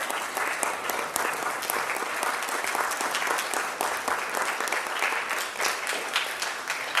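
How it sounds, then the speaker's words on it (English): An audience applauds an orchestra at an Arangetram performance, with steady, dense clapping that fills the whole stretch at an even, loud level and no voices. "Let's give a huge round of applause for our fantastic orchestra tonight"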